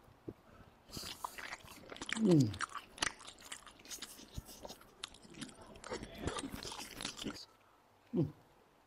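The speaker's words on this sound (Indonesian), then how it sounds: "Kita mau mukbang yang namanya mie samyang" Someone eating Samyang instant noodles in a mukbang, with wet chewing and slurping bursts close to the mic, interspersed with a few talking sounds.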